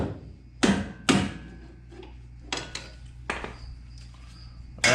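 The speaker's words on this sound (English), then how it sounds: "Take my hammer." A few sharp metallic hammer blows ring out on the front upper control arm of a Nissan 300ZX, spaced irregularly, with lighter taps and clinks between them in an otherwise quiet workshop.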